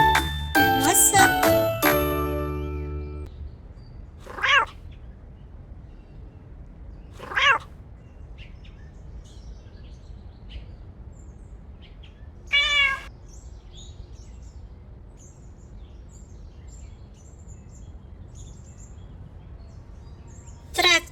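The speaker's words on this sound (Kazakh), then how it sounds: "мысық," A domestic cat meows in several short, separate calls spread through a quiet stretch, each clear and close. A brief burst of jingling, musical sound comes first.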